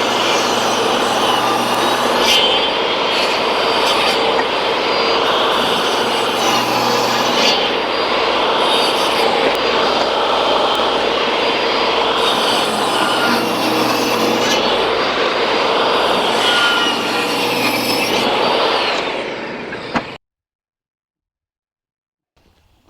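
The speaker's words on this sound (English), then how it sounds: "I'm going to just rip it through the one side and then the other side." A power saw rips lengthwise through a wooden board for a bi-fold closet door repair, a loud, steady whining cut lasting about twenty seconds before stopping abruptly into silence.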